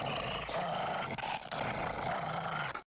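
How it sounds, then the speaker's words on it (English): A dog growls steadily and close by in a low, continuous rumble for about three seconds, heard alone with no talking. "That dog."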